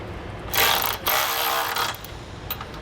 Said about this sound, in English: you can go ahead and crank them down